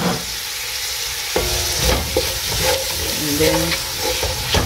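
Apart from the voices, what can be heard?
beef stew simmering in pot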